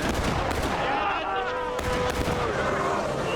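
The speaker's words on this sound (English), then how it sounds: "The Union volleyed, but they were too close to do that volley." Musket gunfire crackles through a War of Rights public match on the Hagerstown Turnpike map, a dense ragged volley with sharp bursts over constant battle noise, while faint voices sound in the background.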